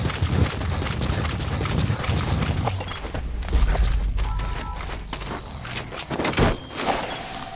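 Gunfire in Metal Gear Solid V: The Phantom Pain, dense bursts and booms with mechanical clatter, loud and continuous over background game sound.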